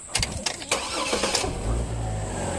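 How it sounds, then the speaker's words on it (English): A 2002–2009 Chevrolet Trailblazer cranks and catches, the starter whirring briefly before the engine fires and settles into a steady, close idle. "we'll start it up real quick, and I'm going to show you how nice it idles now."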